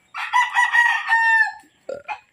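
Hungry pure Banahaw chicken pullets call out loudly and close by, a drawn-out crow-like cry followed by a short pause and a few brief squawks.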